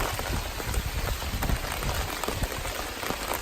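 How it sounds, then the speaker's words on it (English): Heavy rain at Steel Creek Campground, a dense, loud, continuous hiss of drops pattering on surfaces, with no pause throughout. "It is doing some serious raining."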